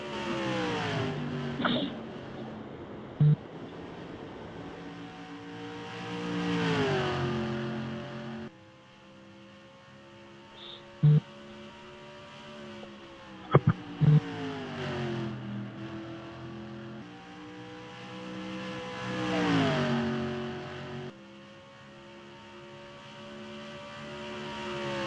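Race cars circle a track, engines rising and falling in repeated passes, several loud bursts and fading pitch sweeps, with some clicking noises in between.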